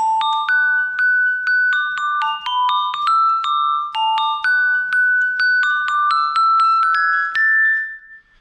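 A glockenspiel plays a short commercial jingle, a bright sequence of clear, ringing metallic notes struck one after another in a lively melody, sounding alone and close with no talk.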